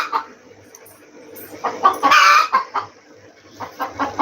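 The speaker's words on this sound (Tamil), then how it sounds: "எங்க வீட்டுக்குள்ள கோழி வந்துருச்சு" A chicken clucks and squawks close by in a room, with a louder burst of agitated calling in the middle.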